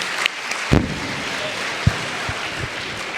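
An audience at a university rector candidate panel session claps, a soft, diffuse spatter of hands with a few sharper knocks and thumps standing out.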